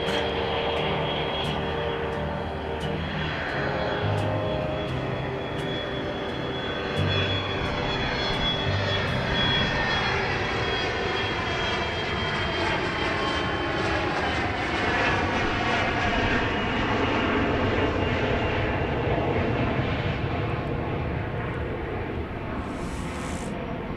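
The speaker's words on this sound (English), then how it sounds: "This is an Embraer Praetor 500 going to San Francisco" An Embraer Praetor 500 business jet departs Dallas Love Field at night, its engine roar loud and sustained, with a rising whine and shifting tone as it passes and climbs away.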